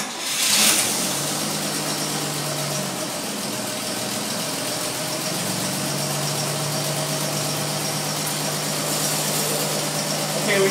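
A 700R4 automatic transmission spins up on a dyno, a steady mechanical hum with engine-like drone and faint whine that holds evenly throughout, close and continuous, with brief speech over it.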